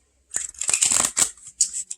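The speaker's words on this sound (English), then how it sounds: "Let me get a good shuffle." A deck of tarot cards being shuffled up close, a burst of crisp riffling and slapping strokes with brief pauses, heard alone without talk.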